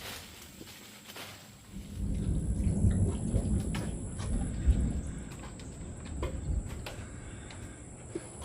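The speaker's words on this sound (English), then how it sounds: "started thundering." Low thunder rumbling during a rainstorm on a muscadine farm, a long rolling growl that swells and lingers, with rain patter and a faint steady high tone in the background.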